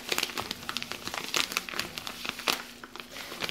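Plastic bubble wrap packing being torn open, a quick run of dense crinkling and crackling with sharp tearing bursts, close and fairly loud, no speech.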